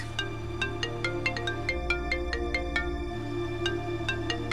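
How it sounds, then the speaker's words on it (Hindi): A phone ringtone plays for an incoming call, a repeating melodic chime with sharp bright notes over a steady low tone, loud and close with no talking. "सर का ही फोन आ रहा है।"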